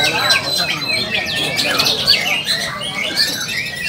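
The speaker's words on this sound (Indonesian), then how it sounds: "Murai Batu" A white-rumped shama sings a rapid, varied string of bright whistles and chattering notes, close and continuous, with people talking in the background at a songbird competition.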